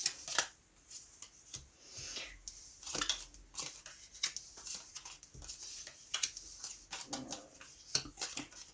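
A deck of tarot cards being cut and handled on a table: soft, close papery flicks, riffles and taps in irregular bursts, with quiet gaps between them and no talking.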